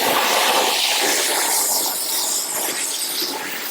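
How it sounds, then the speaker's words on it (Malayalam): Water poured into hot caramel for chilli chicken hisses loudly in a constant, close sizzle that eases off slightly toward the end, with no voices. "നമ്മൾ ക്യാരമലിൻ്റെ കറക്റ്റ് കളറാകുമ്പോൾ നമ്മൾ വെള്ളം ഒഴിക്കുക"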